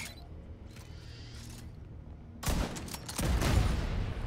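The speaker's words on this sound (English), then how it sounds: "Got a sentry gun on the top there. Let's take it out with a grenade." A grenade blast destroys a sentry gun in the video game The Division 2: quiet game ambience with faint mechanical noise, then a sudden loud, broad explosion roughly midway, followed by a sustained rumbling burst that swells toward the end.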